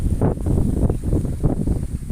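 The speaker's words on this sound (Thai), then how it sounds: "ลมเริ่มจะมาแรงแล้วนะคะ" Strong wind picks up before rain, giving a loud, steady blustery roar with low buffeting rumble against the microphone and no talking.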